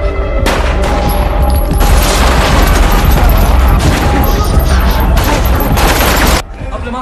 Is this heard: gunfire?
yes